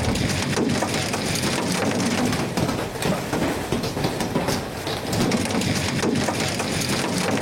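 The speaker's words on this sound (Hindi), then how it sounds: "रावलपिंडी में भी बादल जमकर बरसे" Heavy rain pours down steadily in Rawalpindi, a dense, continuous hiss and patter of water on surfaces with no breaks or voices.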